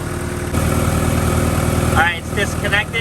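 A car engine fired by a portable jump starter settles into a steady idle, a continuous low rumble throughout, with a brief bump as it catches near the start and people talking over it toward the end.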